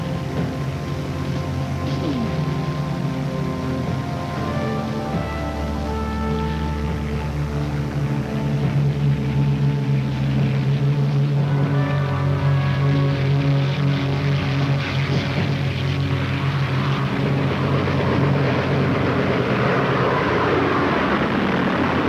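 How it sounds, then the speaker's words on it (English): Aircraft engines droning in a World War II naval air attack on a Japanese carrier fleet, a continuous low rumbling hum that thickens and grows slightly louder partway through, with no voices. "The attacking aircraft swept aside the few fighters the Japanese carriers had left and savaged Admiral Ozawa's fleet"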